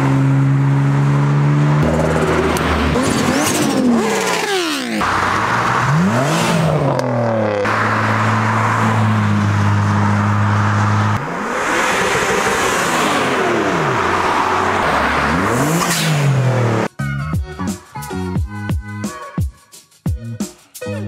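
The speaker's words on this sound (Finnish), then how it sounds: "Tuolta suunniltaan pitäisi tulla autoja." Cars pass one after another with loud engine revving and rising-then-falling sweeps, close by, before the roar gives way to a burst of music at the end.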